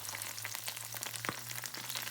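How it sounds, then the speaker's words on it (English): Garlic cloves, chopped jalapeno and ginger frying in oil in a pan over medium heat, a faint continuous sizzle with small crackles and a low steady hum beneath. "And we're going to add some garlic cloves, a chopped up jalapeno, and our ginger to the pan."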